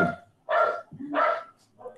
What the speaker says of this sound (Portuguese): Desculpa meu cachorro, mas ele deve estar passando alguém ali.